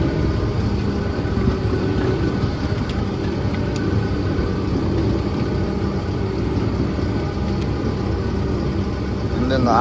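A machine's engine idles at medium idle speed with a loud, constant low rumble and a steady mechanical drone, unchanging throughout.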